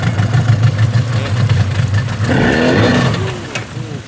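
A used Yamaha two-stroke 40 hp outboard engine runs on a test run, rumbling at idle and then revving up, loud and close throughout.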